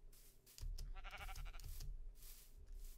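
Sheep bleat in the Minecraft modded survival game, a few short wavering calls over a steady low game background, moderately close and fairly clear.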